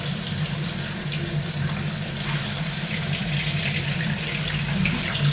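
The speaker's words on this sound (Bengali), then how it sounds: "একদিন ভাজা হয়ে গেছে এবার উল্টে দিতে হবে" Eggs fry in hot oil in a non-stick wok, a continuous dense hiss and crackle heard close and steady.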